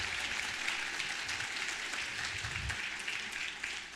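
A church congregation claps together in soft, continuous applause that fills the whole moment, faint and distant with no voices on top.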